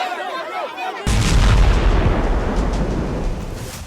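In Gaza, a heavy bomb blast hits suddenly after a second of quieter background noise, leaving a deep, loud rumble that slowly fades.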